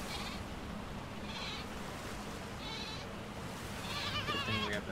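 A goat in the video game ARK: Survival Evolved (Aberration) gives several short, nasal bleats at regular intervals, the last one louder, over a faint, busy game background.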